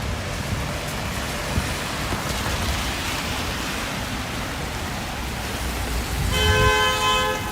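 Steady rain and street noise hiss throughout on a Toronto street, then a car horn honks loudly near the end, a brief sustained blare.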